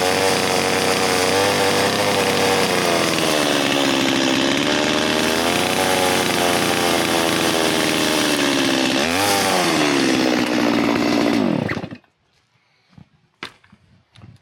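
A loud chainsaw roars steadily as it cuts, its pitch dipping under load, then cuts off abruptly, leaving a few faint clicks.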